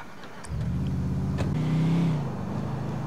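Car engine in GTA 4 online starts up and revs, a steady mid-low rumble that rises in pitch briefly before settling, loud and close with no talk.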